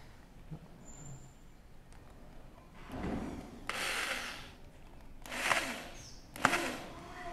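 Screws being driven into an interior board give four short, loud powered whirring bursts that stand out against quiet room noise, with no speech.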